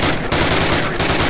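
Thompson submachine gun in Call of Duty on full auto, a loud, dense burst of rapid gunfire lasting just over a second with a tiny break partway through, no voices.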